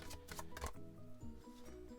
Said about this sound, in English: I hate when they are quite slippy, I will say, when you're shuffling them.